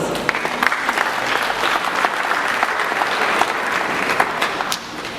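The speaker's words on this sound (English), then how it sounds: "So let's start off by you giving yourselves a round of applause." Graduates at a 2021 skills development center ceremony applaud themselves, a dense steady round of clapping from a crowd that fades slightly near the end.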